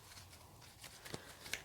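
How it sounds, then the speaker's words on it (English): Large tarot card decks being shuffled by hand, a soft papery riffling with a few sharper flicks and slaps, close and fairly quiet with no talking. "it's just very awkward shuffling some of these big decks"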